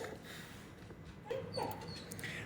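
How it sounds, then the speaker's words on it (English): A dog whimpers in a few short, high whines near the microphone over a quiet room background, faint and intermittent. "oh my gosh, my dog"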